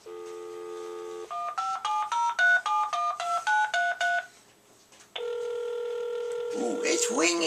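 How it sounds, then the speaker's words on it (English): A dial tone gives way to a rapid series of touch-tone keypad beeps, then after a short pause a steady telephone ringing tone sounds. "Ooh, it's ringing."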